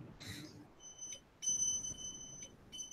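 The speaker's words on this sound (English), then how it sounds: "So it's going to beep like that all the time from now on" A recording device gives repeated short, high electronic beeps, sounding in several separate bursts beneath faint background voices in a room.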